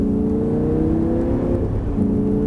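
Audi R8 accelerating hard on the Abbeville circuit, a loud close engine note climbing steadily in pitch before a brief dip and recovery, heard alone without voices.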